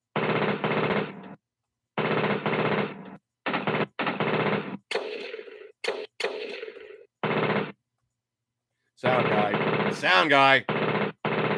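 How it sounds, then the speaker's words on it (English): A machine gun sound effect plays in loud, abrupt, chopped bursts separated by short gaps, with people talking in between. "That last machine gun sound effect sucks."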